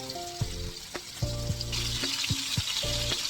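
Homemade Salisbury steak patties fry in a pan, giving a steady close sizzle while a utensil clinks and scrapes against the pan in short, irregular taps.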